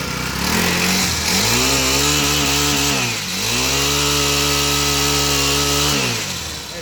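A small pocket bike engine runs at a raised idle, a loud, steady buzzing drone with slight wavering in pitch and a brief dip midway, close by with no talking.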